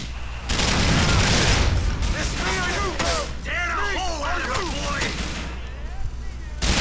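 A submachine gun fires in sustained bursts in GTA IV: The Ballad of Gay Tony, loud and dense through the middle of the clip, with chirping, warbling tones mixed in.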